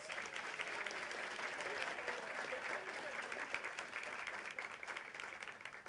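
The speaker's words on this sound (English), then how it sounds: "So let's give them a round of applause." An audience at a breakfast event honoring its founders applauds in a steady, even burst of many hands clapping, moderately distant and continuous throughout.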